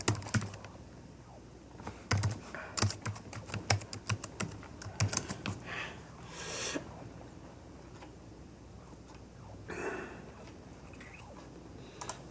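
Fingers tap out quick bursts of keystrokes on a computer keyboard, close and crisp, with short pauses and a few isolated clicks between runs of typing.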